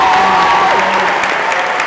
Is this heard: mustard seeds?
no